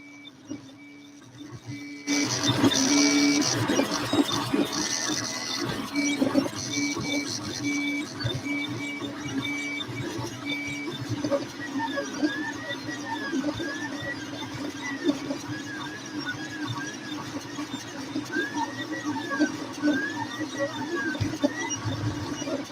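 An Adimlab 3D printer prints a model from filament, with continuous stepper-motor whine and rising and falling squeals from the moving axes, loud and close for a long stretch, plus faint background noise.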